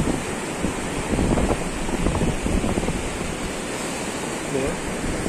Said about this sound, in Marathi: हा इथला समुद्रकिनारा